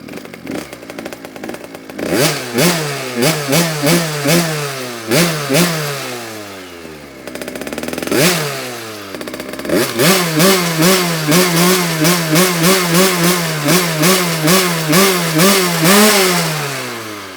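A motorcycle engine is kick-started at a racing track, then revved repeatedly in loud, close bursts that rise and fall in pitch, with no talking.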